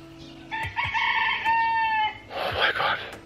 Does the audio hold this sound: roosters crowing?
yes